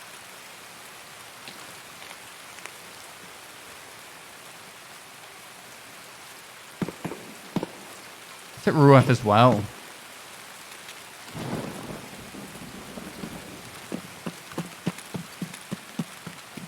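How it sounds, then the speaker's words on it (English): Rain and thunder in a video game raid: a soft, steady patter of rain with a brief loud rumble of thunder near the middle, and a few short spoken words. "This rain might cover our movement a little bit."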